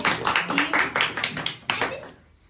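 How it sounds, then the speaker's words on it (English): Classroom audience clapping during an English-speaking practice game, a quick run of close, sharp hand claps in a steady rhythm lasting about two seconds before tailing off. "Clap for her."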